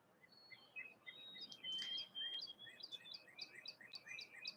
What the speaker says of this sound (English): there are birds outside making noise, and I thought that was a pleasant noise to hear